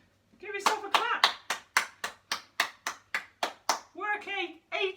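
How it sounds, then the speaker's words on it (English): A person claps steadily at the end of a home workout, about a dozen sharp, evenly spaced claps close to the mic, with a brief spoken voice before and after. "Give yourself a clap"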